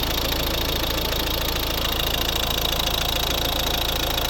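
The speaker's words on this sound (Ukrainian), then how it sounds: "Дуже класна робота мотора." A 2011 Volvo V50 1.6 D2 diesel engine idles steadily up close, a constant rough rumble with a rapid knocking clatter and no other sounds.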